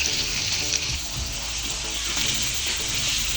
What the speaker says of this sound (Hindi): और हम इसको अच्छी तरह से भूनेंगे